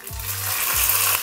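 Loud, hissing sizzle of curry leaves frying in hot oil while tempering for sambar, close by and continuous, with faint low thumps in the background.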